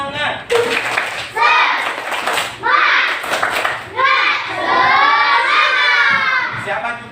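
A classroom of children doing the tepuk semangat clap chant in a fourth-grade class, loud rhythmic clapping bursts mixed with shouted chanting voices in unison, repeated several times close by.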